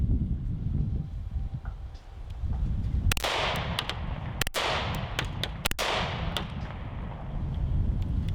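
Arex Delta Gen 2 pistol firing Tula steel-case 115 grain ammunition, four sharp loud shots spaced over a few seconds with ringing echoes after each, over low outdoor rumble.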